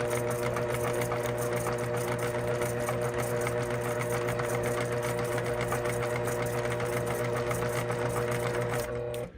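A longarm quilting sewing machine stitches steadily for about nine seconds, a loud continuous motor hum with rapid needle rhythm, close and alone, cutting off abruptly at the end.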